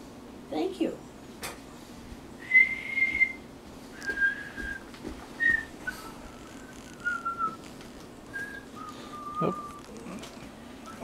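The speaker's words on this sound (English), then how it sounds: "I can whistle with my lips." Someone whistling with their lips indoors, several short thin tones in a loose sequence, faint and spaced apart, with light clinks and background voices around them.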